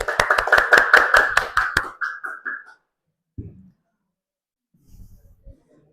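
A classroom group claps together in a quick burst of about two seconds of close, loud hand claps, fading into scattered taps, followed by brief faint shuffling and soft voices.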